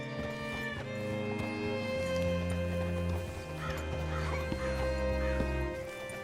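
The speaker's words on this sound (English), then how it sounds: "Hitch your horse up here." Horse in the video game Red Dead Redemption 2, with hooves and horse sounds over a sustained musical score and game ambience, moderately quiet and steady throughout.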